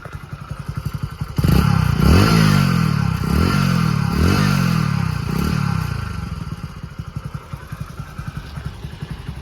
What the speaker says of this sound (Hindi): एग्जॉस्ट साउंड मैं आपको इसके अंदर सुना देता हूँ।